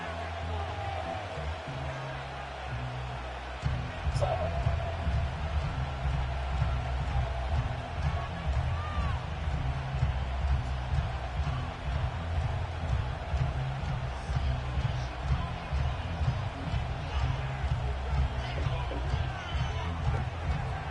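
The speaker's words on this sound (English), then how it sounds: "this crowd is loud and this crowd is ready for a ball game" Loud stadium crowd in a Madden 25 football video game set at a snowy Buffalo game in Orchard Park, New York, a dense continuous roar of cheering fans with a low rumbling rhythm, under a commentator's voice.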